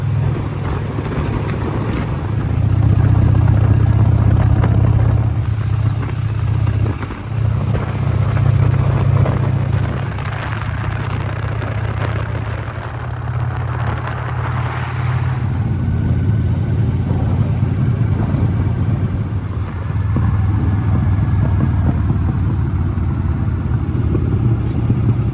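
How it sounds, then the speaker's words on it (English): A Harley-Davidson Softail motorcycle riding through high country around Lake Tahoe, its engine a loud, continuous low rumble with steady throttle changes and wind noise, no speech. "It's just a beautiful day up here to be riding the Harley."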